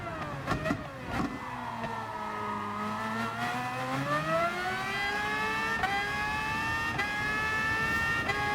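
Race car engine in a racing video game, a Red Bull X2019 on the Sardegna track: a continuous buzzing high-revving drone whose pitch dips and then climbs steadily, with brief shift blips, no talking.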